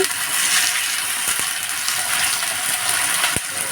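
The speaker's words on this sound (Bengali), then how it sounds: "আলু দিয়ে আরও কিছুক্ষণ ভেজে নিচ্ছি" Thin-cut potato strips frying in oil in a pan, a loud, continuous close-up sizzle and hiss with a couple of sharp utensil taps against the pan.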